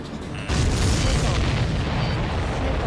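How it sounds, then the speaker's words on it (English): An explosion in the aerial combat game Ace Combat 7: Skies Unknown, a sudden loud boom at about half a second that rolls on into a sustained rumbling roar with no talking over it. "Did you see that explosion?"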